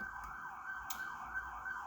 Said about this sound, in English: let this pass real quick,